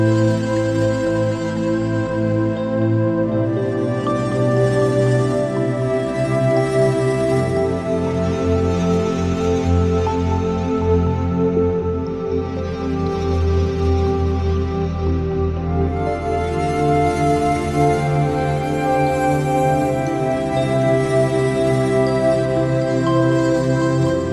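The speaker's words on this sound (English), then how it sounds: "For instance, a preset from the CMI, Fairlight Choir." A Korg modwave synth plays a Fairlight CMI Choir wavetable preset: lush, sustained vocal-like chords that shift slowly over about twenty-four seconds, rich in harmonics, steady and loud with no speech.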